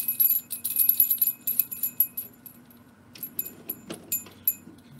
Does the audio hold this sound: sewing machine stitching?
no